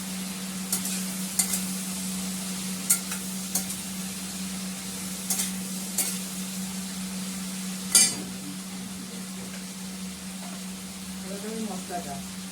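Ginger paste frying in a pan, with irregular scraping stir strokes and a sharp clatter against a steady low mains hum; a short voice murmur surfaces near the end.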